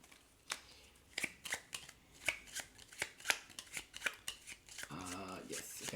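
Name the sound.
shuffling a deck of cards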